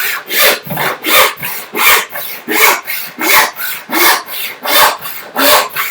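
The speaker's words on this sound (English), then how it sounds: "panel saw by definition is a saw that's about 20 inches long" A roughly 20-inch hand panel saw cutting through wood during a bookcase build, with about a dozen loud, steady back-and-forth rasping strokes in an even rhythm, close up and without speech.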